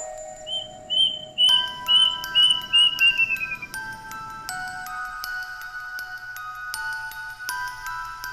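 Birds chirp in quick repeated trills, bright and close, with sustained electronic tones humming underneath.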